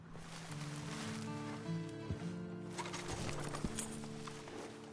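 A horse in Red Dead Redemption Online snorts and whinnies close by, with a few hoof clops and soft rustling mixed in.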